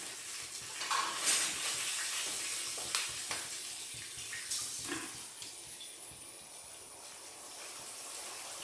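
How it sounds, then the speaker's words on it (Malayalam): Egg frying with pepper and salt in a pan, a soft sizzle with intermittent stirring and scraping sounds, fairly quiet and without speech. "കുരുമുളകും ഇത് രണ്ടും ചേർത്താണ് നമ്മൾ മുട്ട പൊരിച്ചെടുക്കുന്നത്."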